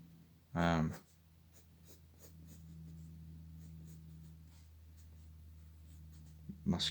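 Pencil or pen moves across paper in soft, intermittent scratchy strokes, quiet and close, with a steady low hum beneath and brief voice sounds at the start and end.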